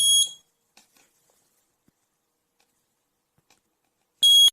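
A wearable fall detection device's buzzer sounds in two short, loud, shrill electronic bursts at the start and end, separated by near silence with a few faint clicks.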